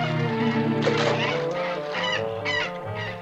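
Geese honk loudly and close by, a run of harsh nasal calls overlapping one another for a few seconds with no other sound.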